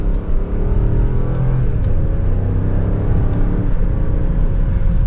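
A 2024 Range Rover P530 SE accelerating in second gear in dynamic mode, heard from inside as a loud, deep engine rumble and rising whir that holds steady throughout, with no talking.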